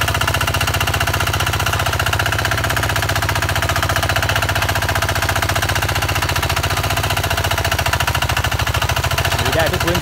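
A cheap ride-on lawn mower with a one-and-a-half-foot cutter trims grass along an edge, its small engine chattering in a loud, rapid, continuous mechanical pulse throughout.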